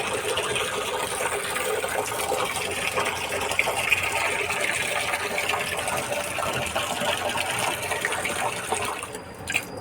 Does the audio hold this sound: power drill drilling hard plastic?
no